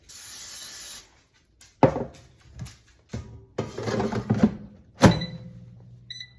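Short hissing bursts of cooking oil spray alternate with scraping and knocking of a pan, close by, with brief pauses between.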